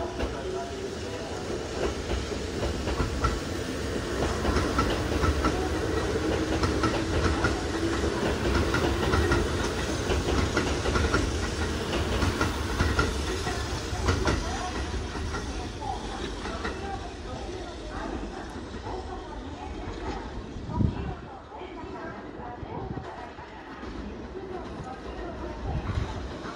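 Kintetsu train arriving at Tsuruhashi station in Osaka, a steady loud rumble and clatter of wheels on rails with hissing that eases off as it slows, under platform announcements.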